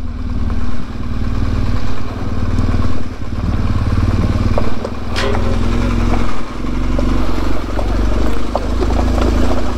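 A motorcycle engine rumbles steadily as it rides along past roadworks, with clattering and rattling over the continuous low drone.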